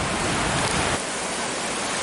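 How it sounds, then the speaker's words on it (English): Water in Buffalo Creek at Borden runs fast in winter, a steady loud broadband rush that carries on without a break and with no voices. "Here we are on Buffalo Creek at Borden, and the water's moving pretty good."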